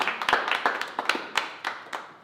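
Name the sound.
applause for the crew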